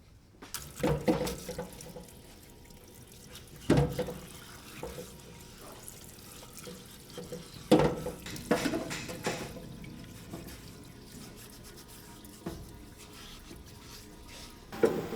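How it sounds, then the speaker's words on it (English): Brake cleaner sprayed to rinse solvent off BMW engine parts during a valve seal replacement, heard as faint hissing and splashing liquid. Quiet trickles are broken by a few sharp louder spurts. "So we're using some brake cleaner to rinse off the solvent."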